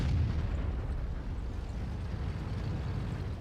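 Tank cannon fire and impact in a Tiger tank combat game, heard as a dense, sustained low rumble with a booming start that stays loud and continuous throughout, no voices present.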